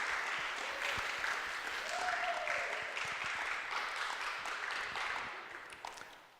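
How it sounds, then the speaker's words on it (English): An audience at a high school Q&A event gives a warm round of applause, a dense and sustained clapping that holds steady and then fades out toward the end. "please give them a round of applause"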